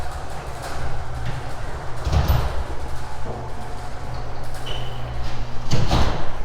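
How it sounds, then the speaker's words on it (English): A two-car residential garage door in a Las Vegas house moves with a slightly off, uneven sound: a continuous rumbling drone with scraping, knocking bumps and a louder clunk near the end. "Garage door needs some kind of adjustment. It does sound a little bit weird"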